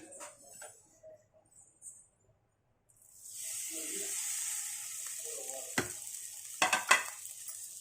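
Bread frying in hot ghee in a kadhai, stirred steadily over medium heat: after a quiet start with faint clinks, a close, steady sizzle rises and continues, broken by a few sharp scraping clatters of the spoon against the pan.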